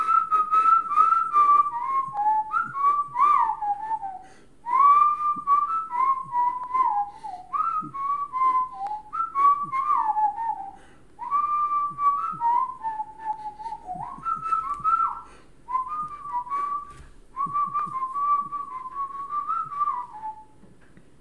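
A person whistles a melodic tune for about twenty seconds in clear phrases with short breaths between them, close up and alone.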